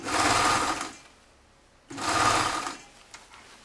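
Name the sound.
sewing machine stitching a lined toque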